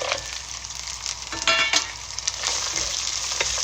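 Dry chilies, kasturi methi and cashews stir-frying in hot oil, a close, steady crackling sizzle with a brief scraping stir near the middle, with no voices.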